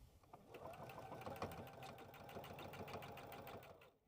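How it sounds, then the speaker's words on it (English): A sewing machine runs steadily, stitching straight across the bottom edge of a fabric bag with a fast, even needle rhythm before stopping near the end. "we're going to stitch right across this little bottom edge"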